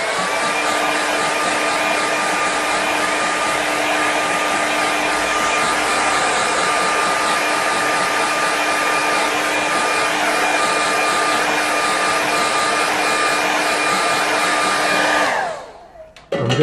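A hair dryer dries a watercolour painting, blowing a steady, loud, close whir for about fifteen seconds before it switches off and winds down, with no talking.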